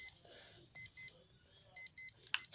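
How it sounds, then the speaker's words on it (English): A timer beeps in short high-pitched bursts, repeating in pairs with gaps between them, faint and close, with quiet background noise. "Wait, this is my timer!"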